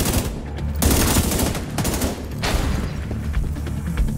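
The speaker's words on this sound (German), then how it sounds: "du kannst durch die Wand schießen" Dense gunfire from The Division 2 video game, rapid bursts and sustained automatic shots layered together, loud and continuous with no talking.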